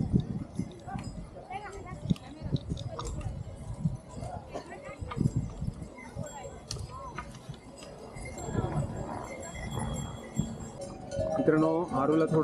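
Horse hooves clip-clop with jingling bells on a mountain trek to Kedarnath, irregular hoof strikes mixed with livestock bells as people talk throughout.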